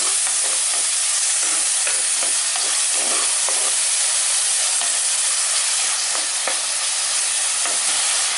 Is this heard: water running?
no